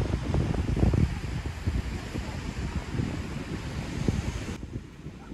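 Steady wind buffeting a beach at Hvidbjerg Strand in Denmark, a continuous low rumble with gusty microphone noise, moderately loud throughout, with no speech.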